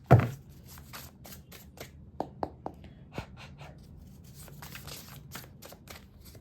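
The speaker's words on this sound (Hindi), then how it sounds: "So let me shuffle the cards." Tarot cards are shuffled close up during a tarot reading, with a steady run of soft papery riffles and flicks, a sharp tap at the start and a few crisp card snaps partway through, quiet and with no talking.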